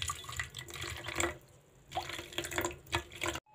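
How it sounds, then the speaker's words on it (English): Cold water poured from a tap or jug onto a spoonful of potash while preparing an African salad, giving a splashing, trickling flow in several bursts with brief pauses, close by. "Then I add my cold water."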